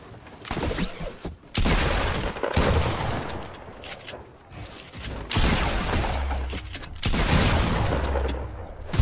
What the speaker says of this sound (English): Shotgun fights can go either way in the blink of an eye.